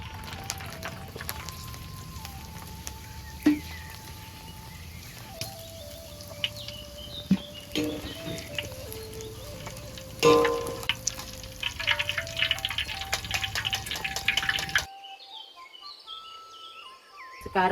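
Kerupuk crackers frying in hot oil in a home kitchen, a steady crackling sizzle with sharper pops, faint bird calls in the background and no talk.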